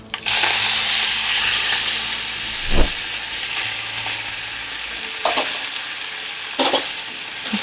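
Fenugreek leaves drop into a sizzling tempering of mustard seeds and asafoetida, setting off a loud, continuous hiss that holds steady with a few sharp stirring knocks against the pan.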